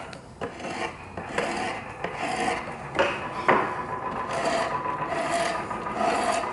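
Hand tool shaving a wooden Windsor chair spindle from square toward an octagon, a continuous close rasping scrape with repeated stroke accents and light metallic ringing, no talk.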